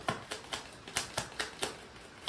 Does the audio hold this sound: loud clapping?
no